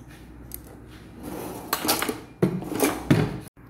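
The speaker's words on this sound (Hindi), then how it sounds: "ये सारी ड्राई इंग्रेडिएंट को मैं ऐसे मिक्स कर लूँगी।" Dry ingredients for halwai-style gulab jamun, including baking powder and green cardamom powder, mixed in a bowl, giving a few scraping, clinking strikes of a utensil against the dish, close and moderately loud with a soft rustle between.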